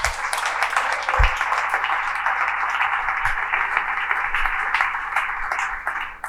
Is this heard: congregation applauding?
yes